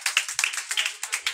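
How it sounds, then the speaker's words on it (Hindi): Students clapping at a Class 10 farewell ceremony in Bihar, a short burst of quick, uneven handclaps from a small group, close and sharp. "उसके लिए ताली मार दीजिए।"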